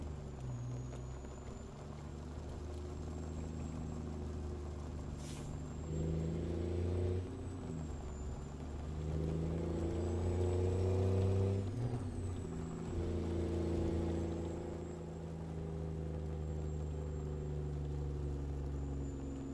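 A Freightliner FLC logging truck in American Truck Simulator runs downhill on a gravel road with a light load. Its engine gives a steady, droning rumble whose pitch shifts as it rises and falls, heard alone without talk.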